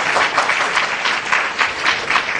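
Audience applause at a poetry recital: dense, steady clapping from a crowd, loud and continuous throughout with no voices over it.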